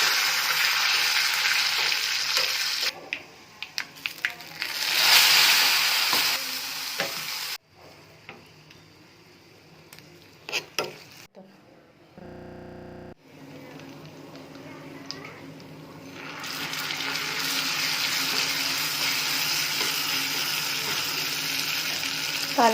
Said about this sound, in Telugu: తాలింపు పెట్టేసుకున్నానండి.